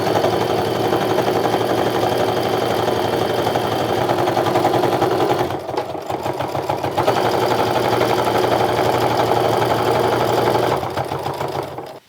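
A sewing machine runs a continuous, steady, close stitching whir while sewing a 1/8-inch seam across a fabric wallet, pausing briefly midway before resuming; no talking.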